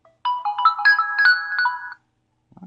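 A short electronic phone ringtone from a OnePlus X smartphone plays a bright melodic sequence of tones, followed by silence and a faint low thump.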